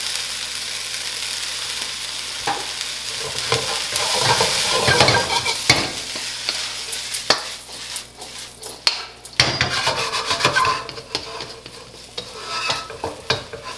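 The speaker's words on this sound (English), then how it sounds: "Now I'm gonna add my egg." An egg fries in a pan of cooked rice for pineapple jerk chicken fried rice, with steady close sizzling and repeated scraping and clacking of a utensil stirring against the pan.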